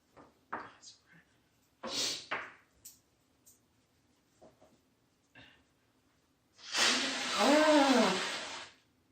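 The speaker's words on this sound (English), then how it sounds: "Blow my nose." A person blows their nose once in a loud, wet burst lasting about two seconds near the end, preceded by scattered quiet handling clicks and small sounds while repairing a Radiomaster Jumper T16 radio controller.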